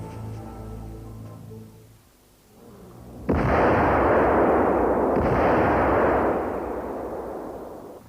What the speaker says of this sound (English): Using C4 explosives with petrol, this Jaeger sets up a configuration used in destroying a vehicle depot.